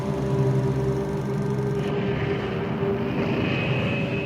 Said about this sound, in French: Ensuite, il envoie des Stuka pour les bombarder.